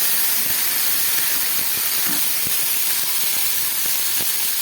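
Spice paste of ginger, chilli, onion and garlic goes into a hot oil tempering, producing a loud, steady sizzling hiss close by, with faint small pops scattered underneath.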